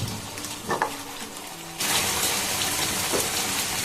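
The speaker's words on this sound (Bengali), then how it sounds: "এই যে এবার দিয়ে দেবো আমি মোটামুটি 1/2 কাপ জল।" Warm water poured into a pan of hilsa fish curry, a quiet simmer that bursts into a loud, steady hiss and sizzle partway through, continuing to the end without talk.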